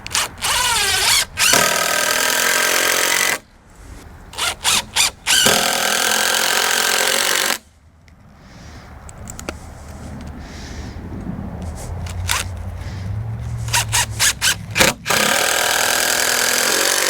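A pneumatic nail gun drives the top trim piece onto a 4x12-foot wooden raised garden bed, with several sharp bursts and clusters of shots broken by quiet pauses and a stretch of low background hiss.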